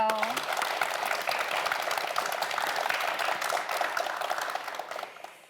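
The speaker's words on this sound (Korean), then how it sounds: "두 학생 모두에게 큰 박수 보내주세요." A studio audience on a televised student quiz show breaks into applause, a short musical sting opening the clip before dense clapping carries on and fades out toward the end.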